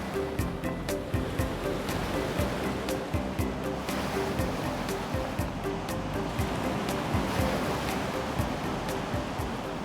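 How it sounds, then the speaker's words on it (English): Steady broadband rush of ocean surf along the beaches stretching north from Miami toward Boca Raton, Florida, a continuous wash of breaking waves heard fairly close with no voices. "An endless series of beaches stretch north from Miami towards Boca Raton."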